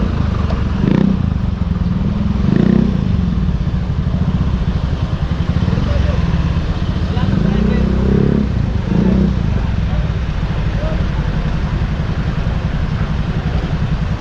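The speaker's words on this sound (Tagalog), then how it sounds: "Etong dami oh, mga motor." Many motorcycles crowd a road in the Philippines during a traffic enforcement operation, their engines idling and revving in a steady mid-range rumble with occasional louder surges, while voices talk over the traffic noise.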